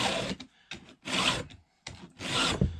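Three slow, rasping strokes of a file across chainsaw chain teeth, close and fairly quiet, with short pauses between each pass.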